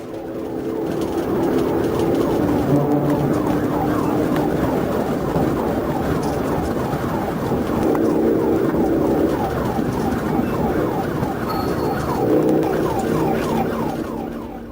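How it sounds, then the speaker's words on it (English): Police sirens wail during a highway motorcycle chase with troopers, a steady loud warbling blare that rises and falls continuously over road noise. "Within seconds, sirens echoed across the highway."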